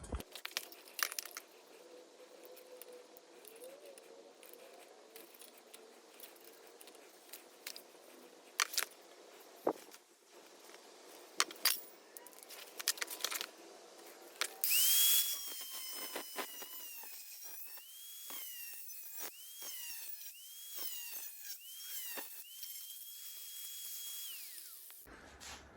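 A power tool cuts into an aftermarket Nissan 350Z exhaust silencer, giving a faint high-pitched whine with rising and falling tones, broken by sharp bursts in the quiet before it.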